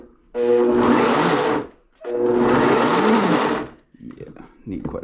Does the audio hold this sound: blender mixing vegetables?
yes